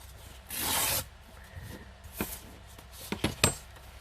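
Collage paper from a collage book gets its edge rubbed off with a short rasping scrape, then lighter scratchy strokes and a few sharp taps close by on a desk.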